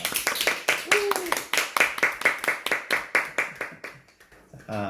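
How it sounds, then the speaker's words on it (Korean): A group claps steadily together for several seconds, the applause fading out at the end as a voice begins. "오늘 참가해주신 리더님들 스스로에게 칭찬의 박수 보내고 시작하도록 하겠습니다"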